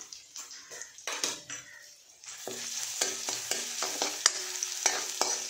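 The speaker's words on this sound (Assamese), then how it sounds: "এটা শুকান জলকীয়া আৰু নহৰুখিনি দিছোঁ, আৰু লগতে এয়া এখন চামুচেৰে এচামুচমান ক'লা সৰিয়হ দিছোঁ।" Dried chili, garlic and a spoonful of black mustard seeds fry in hot oil with a steady, close sizzle. A spoon stirs them, making scraping clinks against the pan.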